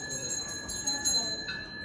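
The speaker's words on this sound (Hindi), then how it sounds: "गोले की घंटी बजी।" An ice gola vendor's bell rings repeatedly in a home setting, a thin metallic tone heard faintly over background noise.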